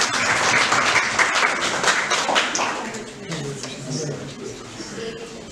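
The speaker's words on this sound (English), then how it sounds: "Please clap." A conference audience applauds, a broad wash of clapping for the first half that thins out as a voice speaks over the tail.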